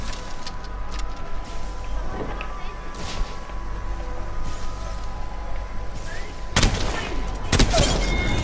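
Sharp gunfire bursts in Apex Legends crack over a droning game soundscape, with a louder volley near the end and faint voices underneath.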